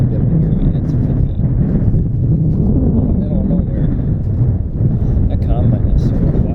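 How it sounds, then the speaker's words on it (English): Strong wind buffets the microphone beside a soybean harvest with a 2001 John Deere 9750 STS combine, a steady loud roaring rumble throughout with no clear voices. "You won't be able to hear me. It's windy."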